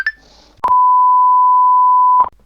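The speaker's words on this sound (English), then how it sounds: "And now I'm getting a phone call." A loud, steady electronic phone tone sounds alone for well over a second and a half, preceded by a short chirp and faint clicks.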